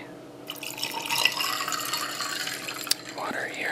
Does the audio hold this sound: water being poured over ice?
yes